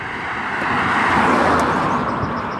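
A car passes by on a road in New Milford, a broad whoosh that swells to a peak midway and then fades, heard alone at moderate distance.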